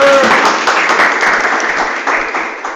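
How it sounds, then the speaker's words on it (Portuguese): A church congregation at a Sunday worship service claps in a steady, close burst of applause that fades slightly over a few seconds. "Uma salva de palmas para eles, por favor."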